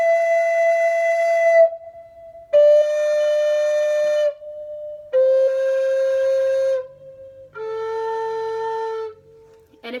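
Native American flute plays four long held notes stepping down the scale one finger at a time, each sustained for about two seconds with short pauses between, close and clear.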